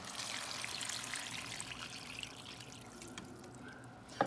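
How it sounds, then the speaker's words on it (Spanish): Water pouring steadily into a pot of potato stew with tomato and chile strips, a continuous close splashing trickle that fades slightly toward the end, with no talk over it. "Entonces vamos a echarle el tomate, las rajas y el agua."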